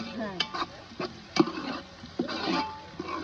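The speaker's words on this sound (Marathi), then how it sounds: "कांदा छान असा आपल्याला परतवून घ्यायचा आहे" Onion sautés in a pan for a crab curry, with close stirring scrapes and soft sizzling in irregular strokes.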